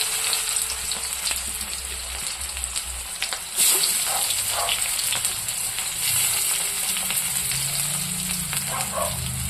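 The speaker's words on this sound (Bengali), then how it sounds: "পেঁয়াজটা একটু লাল লাল করে ভাজবো" Chopped onions sizzle in oil in a wok, frying until reddish, a steady close hiss with occasional stirring scrapes and clicks and no talking.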